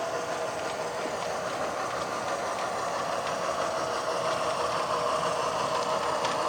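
Model trains roll past on a home layout with a steady, even whir and rumble of motors and wheels on track, holding close and constant throughout.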